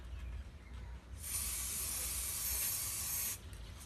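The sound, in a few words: spray painting a fiberglass relief panel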